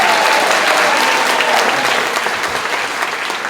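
Sustained clapping from an audience gathered at a local Democratic club meeting, a dense steady wash of many hands that fades slightly toward the end.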